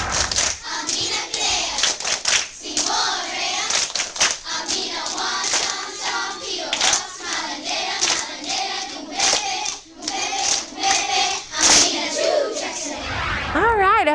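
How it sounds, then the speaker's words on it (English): Children playing a Shona hand clapping game from Zimbabwe, quick rhythmic hand claps and slaps repeating steadily for the whole stretch, with kids' voices chanting and talking along. "Have fun with this hand clapping game."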